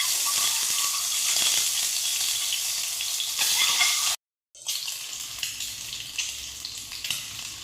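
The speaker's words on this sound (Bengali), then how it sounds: "ডিমগুলো ভেজে নেব।" Eggs frying in hot oil give a continuous bright sizzle with a few stirring scrapes, broken by a brief silent gap before the crackling resumes.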